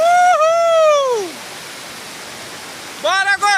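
The Sete de Setembro waterfall in Boa Nova National Park sends out a steady broadband rushing roar, while people let out loud whooping shouts at the start and again near the end.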